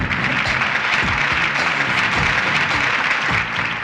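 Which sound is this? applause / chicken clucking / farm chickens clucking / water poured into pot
applause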